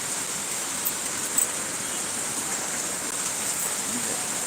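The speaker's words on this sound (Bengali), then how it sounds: "এই যে গাড়িগুলো যাচ্ছে আর ঝমঝম করে বৃষ্টি হচ্ছে" A steady, loud roar of torrential rain beside a road where vehicles go by, with a couple of faint bumps and patters standing out briefly in the otherwise unbroken wash; nobody speaks.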